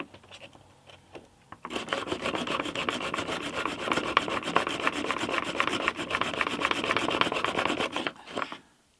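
A file worked back and forth across metal after a burr was removed, giving a fast, even run of rasping strokes for about six seconds before stopping abruptly.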